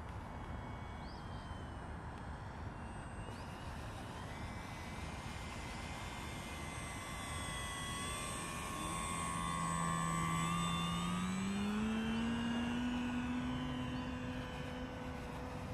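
Skynetic Bison XT STOL RC model airplane, 1750 mm wingspan, flying a full-flap stall test: a steady electric motor and propeller whine that rises and shifts pitch midway, fairly close and alone, with no voices.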